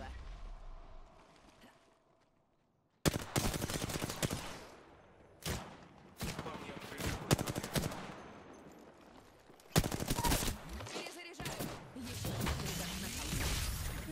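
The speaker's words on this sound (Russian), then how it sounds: "По мне стреляют." Bursts of video game gunfire aimed at the player crack out in dense rapid volleys with short pauses between them, loud and close, and a voice talks over parts of the shooting.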